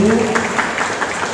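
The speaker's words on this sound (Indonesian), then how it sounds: "tepuk tangan buat Pak Camat, Bapak Ibu" An audience at a Christmas celebration in Siak, Riau, applauds the sub-district head with brief, dense clapping, while a voice trails off at the very start and the clapping carries on beneath.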